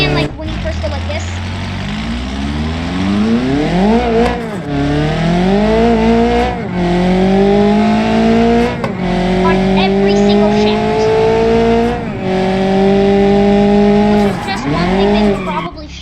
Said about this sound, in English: The turbos spooling down on this one